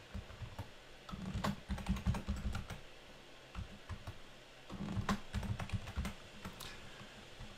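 Typing column headers into a Word table on a computer keyboard: two quick flurries of close, crisp key clicks with brief pauses between them, quiet and with no voice over them.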